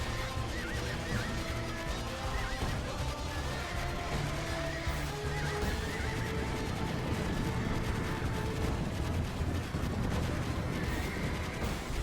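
Horses neigh and whinny in an Age of Empires 2 recreation of the medieval Battle of Crécy, over a dense, continuous battle din with music and clattering throughout.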